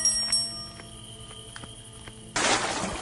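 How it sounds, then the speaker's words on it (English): A bell tone rings out with lingering harmonics, a couple of soft metallic strikes, then a burst of broadband noise at the end, in the Granny horror video game. "Alright, we're gonna ring the bell."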